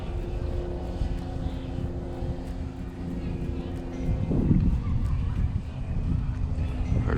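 A DJI Mavic Mini drone descends to land, its small propellers giving a steady whining buzz that grows somewhat louder toward the end, under an outdoor breeze and a voice.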